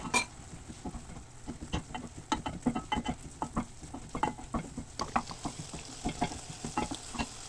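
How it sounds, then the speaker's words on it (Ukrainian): Rapid, irregular scraping and tapping of a utensil quickly stirring thick starch-thickened pie filling in a pan, with a faint sizzle underneath, close and fairly quiet. "дуже-дуже-дуже швидко перемішую це все"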